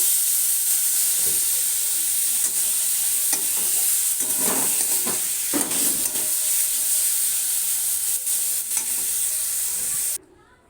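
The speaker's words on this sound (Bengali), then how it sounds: "আমি চিকেনটাকে এবার ভাজা ভাজা করে নেব" Marinated chicken fries in a hot wok, a loud continuous sizzle with intermittent stirring scrapes and bursts of spatter, then cuts off abruptly near the end.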